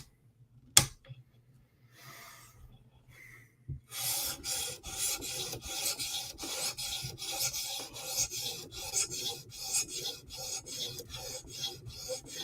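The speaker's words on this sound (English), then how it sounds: "400 grit stone. Now we're starting to polishing." A Chris Reeve Umnumzaan tanto knife of MagnaCut steel is stroked over a 400 grit sharpening stone, making a steady rasping scrape in quick back-and-forth rhythm after a sharp click and a brief pause, close and alone.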